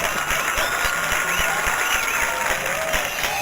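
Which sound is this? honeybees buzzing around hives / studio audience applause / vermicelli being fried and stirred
studio audience applause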